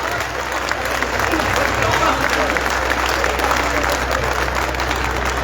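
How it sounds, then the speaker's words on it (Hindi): Audience applause at an outdoor poetry gathering (kavi sammelan) on a Ramlila ground in Neemkathana, a steady, fairly thin wash of clapping that holds evenly throughout with some crowd murmur beneath. "तालियां कमजोर है,"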